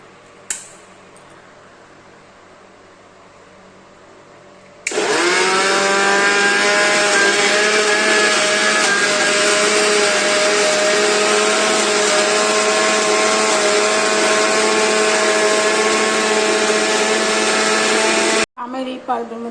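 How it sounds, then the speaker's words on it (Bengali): A mixer grinder starts abruptly and runs loud and steady for about fourteen seconds, blending chopped stored mango into pulp with a high whining motor drone, then cuts off sharply. "এই আমগুলো যে কেটে স্টোর করে রেখেছিলাম বন্ধুরা, সেটাকে হচ্ছে মিক্সিতে একটু ব্লেন্ড করে নেব।"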